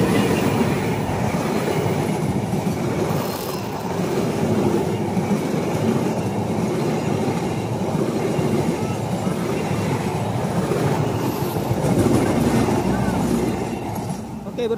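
Argo Parahyangan passenger train rolling past a station at Cikadongdong in Indonesia, a steady, loud, continuous rumble of wheels and cars for the whole stretch, with faint voices underneath.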